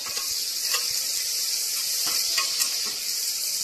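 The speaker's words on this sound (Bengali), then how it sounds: "কিছুটা জিরা দিব। তো অনেকটা পরিমাণ আমি পেঁয়াজ, কারণ এটা পেঁয়াজেই টেস্টি লাগবে" Cumin and onions frying in a pan for chicken pulao, a continuous loud sizzle with a few soft scraping stirs from a spoon, close up and without speech.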